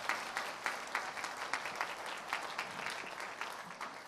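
Applause for a graduate at a graduation ceremony, a soft, distant crowd clapping with a faint rhythmic pulse, steady and quiet throughout.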